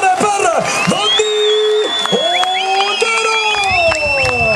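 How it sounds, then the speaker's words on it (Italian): A large crowd roars, whoops and cheers for a motocross rider at a Clusone motor show, loud and sustained with rising shouts and some clapping mixed into the din. "Fatemi sentire le mani, la voce, il rumore per Donny"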